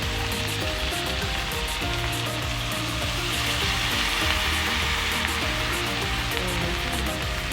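Broth poured into a pan of frying food keeps a steady, loud sizzle and crackle going throughout, with a few faint stirring scrapes underneath and no voices.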